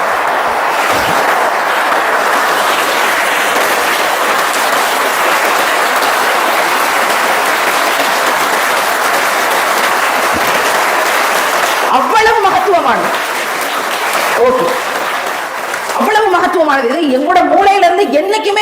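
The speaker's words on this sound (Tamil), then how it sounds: "ஒரு பெரிய கைத்தட்டல் கொடுத்துக்கணும் நம்மளோட அம்மாவுக்கு" A crowd applauds in honour of mothers, dense sustained clapping filling a hall for about twelve seconds before a speaker's voice takes over amid scattered claps.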